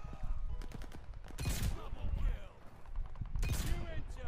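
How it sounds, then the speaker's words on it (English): Gunfire in the Call of Duty: Vanguard video game, sharp repeated bursts and rapid shots at close range, mixed with a voice speaking over the action. "Stop shooting at me."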